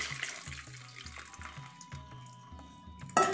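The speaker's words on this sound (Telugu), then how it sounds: "సొరకాయ ఉడికిన తర్వాత స్టవ్ ఆఫ్ చేసి ఈ విధంగా స్ట్రైనర్తో వడగట్టుకోవాలి" Water from boiled bottle gourd drains through a strainer in a kitchen, a quiet trickling splash with gentle repeated dribbles and a brief louder clatter at the end.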